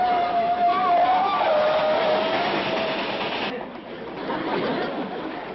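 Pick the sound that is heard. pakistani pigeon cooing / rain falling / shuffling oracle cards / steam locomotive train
steam locomotive train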